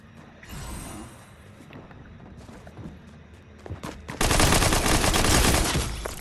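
Rapid SMG gunfire in the video game Fortnite: scattered shots at first, then a loud, sustained automatic burst close up that runs to the end.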